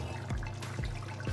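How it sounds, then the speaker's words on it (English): Jamaican curry chicken with carrot, potato and tomato bubbles steadily in a pot, a soft, close, continuous watery simmer with occasional small pops and drips. "bubbling away"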